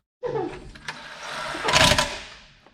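A power tool whirs steadily while the last transmission bolt comes out from under an RSTi project car, swelling to a louder, harsher burst near the end before tapering off, close and with no talk.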